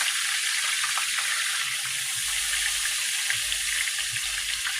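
Breaded chicken pieces frying in a pan, a steady dense crackling hiss of hot oil, close and constant, with faint low bumps underneath.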